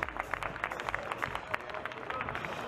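An audience at a beauty pageant applauds a sponsor with steady, moderately loud clapping and crowd noise spread through the room, the hands striking in a brisk, uneven patter.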